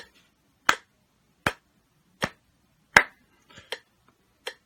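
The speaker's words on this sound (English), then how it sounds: "here's a metronome that's going to give us a steady beat. Each click is basically a quarter note" A metronome beats a steady quarter-note pulse, sharp isolated clicks close by, about six evenly spaced ticks with silence between them.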